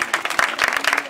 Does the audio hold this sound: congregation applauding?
yes